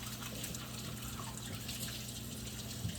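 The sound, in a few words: apples being washed under running water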